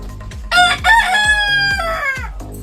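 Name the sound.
chickens, rooster crowing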